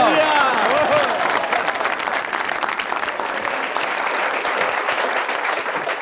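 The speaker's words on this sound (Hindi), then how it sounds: "तालियां कैसर के लिए, तालियां।" A studio audience breaks into strong applause on a comedy talk show, a dense steady clatter of clapping with a brief voice at the start and crowd murmur under it.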